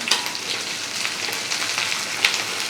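Garlic, sliced green chillies and curry leaves sauté over a medium flame for beetroot pickle, giving a steady close sizzle with a few faint stirring taps and no voices.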